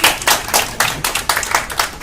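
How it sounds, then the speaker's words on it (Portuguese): An audience applauds, with steady, rhythmic claps from a small crowd that are loud and close, with no voices over them. "Palmas para"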